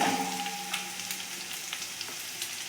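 Garlic-ginger paste sautéing in a pan for vegetable gravy manchurian gives a steady, fairly quiet sizzle and crackle throughout, with a few light pops and no talking.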